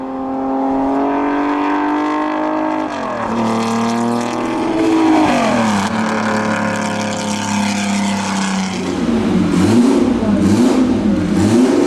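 A 1956 Maserati 250 race car, the Monaco winner, revs its engine up and down in several rising and falling pulls, loud and close, with no talk.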